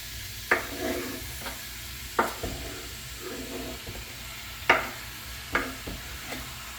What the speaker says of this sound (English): All right, get these in the skillet.